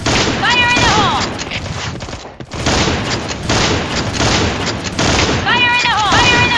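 Video game combat: dense, loud gunfire and booming grenade explosions run almost continuously, with a brief dip near the middle and shouted game voice lines over the chaos.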